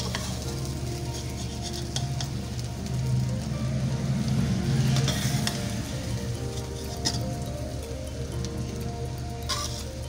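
Smoke biryani being dished out of the pot, with close scraping and stirring of rice against the pot over a continuous faint sizzle, steady and fairly loud, without speech.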